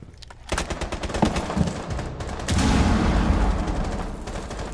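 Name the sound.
assault rifle gunfire in Rainbow Six Siege video game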